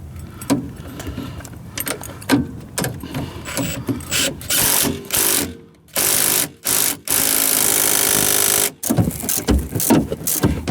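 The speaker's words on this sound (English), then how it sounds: "We're gonna tighten this up and it's good to go." Tightening a nut on a coilover mount while installing coilovers on a turbo Honda Civic, with rapid ratcheting bursts, metallic clicks and rattles up close, broken by short pauses.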